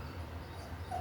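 Soft puppy whimpers sound faintly over a steady low hum in a quiet indoor setting, with no talk.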